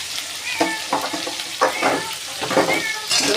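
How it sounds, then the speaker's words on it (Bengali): Chopped tomato and capsicum frying in a pan, with a steady sizzle broken by repeated scraping strokes as the vegetables are stirred, close and fairly loud. "টমেটোটা ভালো করে ভেজে নেব। এবার দেবো কুচনো ক্যাপসিকাম।"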